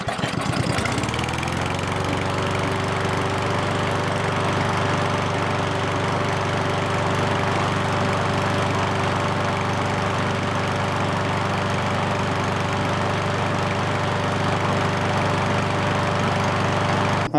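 A lawn mower engine, just after a carburetor clean, catches quickly after a brief sputter and settles into a loud, steady running drone that lasts to the end, with no voices.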